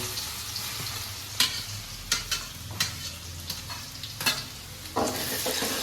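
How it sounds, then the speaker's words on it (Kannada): Garlic frying in hot oil in a pan, a steady close sizzle broken by repeated sharp scraping clatters of a spoon stirring, with no talking. "ಸೊ ಇಲ್ಲಿ ಫಸ್ಟ್ಗೆ ನಾವು ಗಾರ್ಲಿಕ್ ಅನ್ನು ಹಾಕ್ತಿದ್ದೇವೆ"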